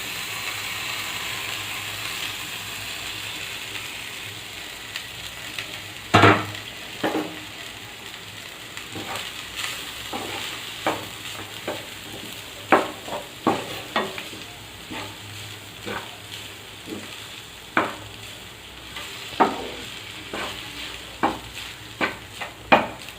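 Cooked rice is stir-fried in a pan for paneer fried rice. A spatula scrapes and knocks against the pan in a steady, repeated rhythm, each stroke sharp and close, over a low continuous sizzle.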